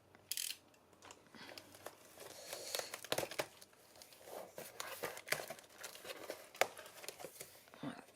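A wrapped parcel is opened with a cutter, giving irregular crinkling of packaging, sharp slicing and tearing bursts, and scattered clicks at close range, fairly quiet overall.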